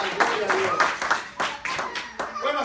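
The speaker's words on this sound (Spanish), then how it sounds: "un aplauso al Señor por esta hermosa escuela dominical." A church congregation claps at a Sunday school service in a series of sharp, uneven bursts of hand claps, with voices calling out between and over them.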